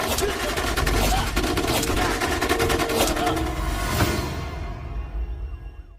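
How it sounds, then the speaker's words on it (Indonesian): Rapid film gunfire as police shoot down a villain in an Indian action movie, dense bursts of shots over a dramatic score, loud and continuous before fading toward the end. "polisi dengan cepat menembaki tubuh Devil hingga tewas tersungkur bermandikan peluru"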